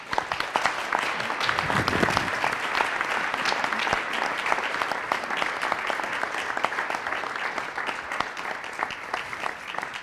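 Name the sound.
audience applause for inspirational leaders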